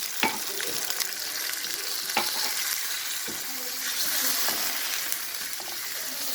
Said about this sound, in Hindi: अब मैं इसमें 1 कप पानी डाल दूँगी।